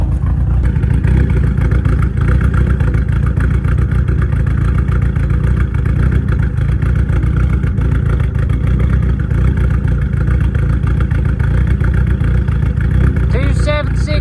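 A VW Mk1 Rabbit truck with an ABA turbo engine roars loudly and continuously at close range, a dense steady engine drone filling the whole stretch with no talk.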